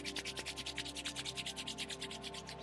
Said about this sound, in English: rub your palm together